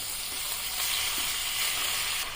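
Boneless chicken sautés in a pan over a medium flame, a continuous close sizzle and crackle with a faint stirring scrape, no voices.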